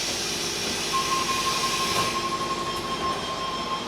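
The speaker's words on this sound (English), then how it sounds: "Just like a double-decker bus, but a double-decker train." A double-decker commuter train in Sydney rumbles along the track, heard from inside as a steady loud roar with a thin high wheel squeal running through it.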